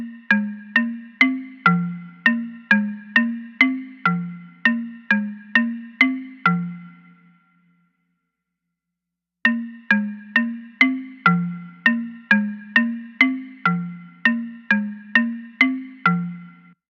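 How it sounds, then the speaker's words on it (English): Synth marimba in 1980s R&B style plays a bright, repeating mallet pattern with quick decaying notes over a low bass line, stopping for about two seconds midway before resuming alone. "I added one of my favorite sounds that they used to add to some songs in the 1980s,"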